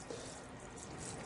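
Liquid poured into a container of CleanBoost oil absorbent, a steady, soft watery trickle that holds on evenly for about a second at low volume.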